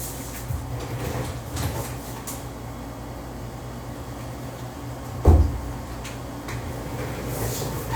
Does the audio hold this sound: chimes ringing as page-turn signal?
no